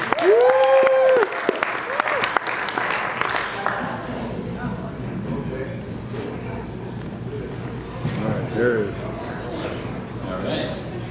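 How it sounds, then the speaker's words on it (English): Wedding guests break into applause for the bride's brother as he steps up to speak, a loud burst of clapping that fades into scattered claps and crowd murmur, with voices and a short whistle over it. "Give him a round of applause, please."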